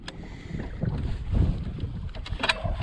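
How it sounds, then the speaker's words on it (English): Wind gusts across an open lake on a cloudy spring day, a low rumbling buffet against the microphone that swells and fades, with small knocks and splashes from a fishing boat nearby. "Wind is blowing, cloudy."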